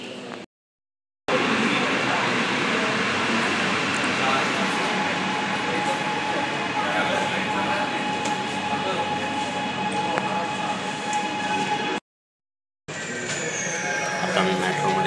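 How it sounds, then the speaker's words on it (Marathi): Aqua Line underground metro train arriving at the Girgaon platform, a loud continuous roar and rumble with faint squealing tones, briefly cutting out twice, with a voice speaking over it. "तर काही क्षणातच येणार मेट्रो,"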